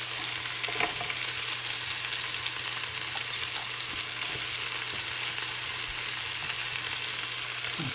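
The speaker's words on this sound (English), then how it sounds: "the onions is kind of soft now, so I'm gonna add all my carrots" Carrots frying with softened onions in a pan for tilapia escabeche, a continuous even sizzle with faint stirring scrapes, close and steady throughout.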